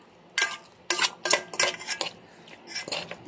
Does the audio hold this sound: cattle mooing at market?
no